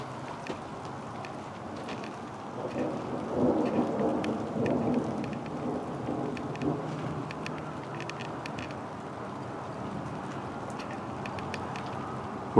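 Thunder rumbles through a storm overhead, swelling loudest in the middle, with a steady patter of light rain and scattered drops throughout; no talk.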